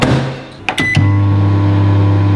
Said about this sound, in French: maintenant on met ça au micro-ondes. On met 12 et après on verra